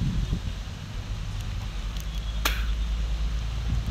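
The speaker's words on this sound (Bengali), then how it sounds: "এই যে ধুলোরে চলে যাচ্ছে, মানে এটাকে বলে সেই মরুঝড়" Desert dust storm wind blows in a constant, loud, buffeting roar across the microphone, with faint rustling and a sharp brief crackle partway through.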